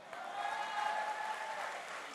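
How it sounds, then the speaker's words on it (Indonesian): An audience at a Golkar party regional congress in Jakarta applauds, a dense, steady wash of clapping hands that holds evenly for a couple of seconds. "Aplaus dulu, beri dulu dong."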